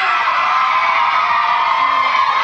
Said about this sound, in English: It's that crowd again.